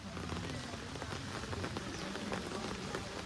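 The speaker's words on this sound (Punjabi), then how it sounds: "ਹੁਣ ਮੀਂਹ ਹਟਦਾ ਨਹੀਂਗਾ" Steady heavy rain pours down near a swollen drain, a dense continuous patter on surfaces with no voices.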